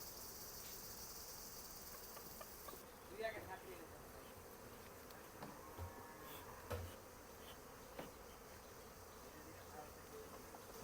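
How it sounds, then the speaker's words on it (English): Honeybees buzzing around an open hive box at an apiary in Gazipur, a faint, steady insect drone with scattered brief knocks and rustles through a quiet outdoor setting. "The box is full of honeybees."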